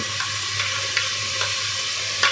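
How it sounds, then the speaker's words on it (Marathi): Yogurt is being stirred into biryani masala in a pan, giving a soft steady sizzle with a few light scraping strokes of the spoon, close and fairly quiet. "आता याच्यात आपण दही टाकूया"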